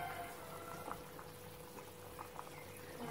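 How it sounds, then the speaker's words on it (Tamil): A pot of pakoda curry bubbling at a steady boil, with continuous soft gurgling and popping, fairly quiet and close. "இப்போ பாருங்க நம்மளுக்கு கொஞ்சம் நல்லா கொதிச்சிருச்சு இந்த அளவு கொதிச்சா போதும்"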